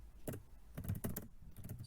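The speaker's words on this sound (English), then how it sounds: "I could start typing" Quiet typing on a computer keyboard, with a few irregular clusters of soft key clicks over about two seconds, heard close up with no talking.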